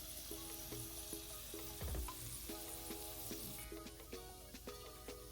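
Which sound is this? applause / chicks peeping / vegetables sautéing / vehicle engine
vegetables sautéing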